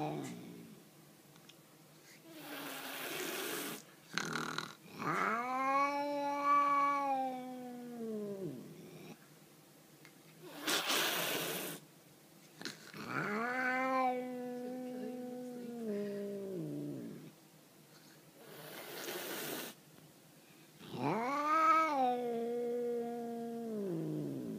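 Cat giving three long, drawn-out wailing meows spaced several seconds apart, fairly close, with brief clicks and rustles in the pauses.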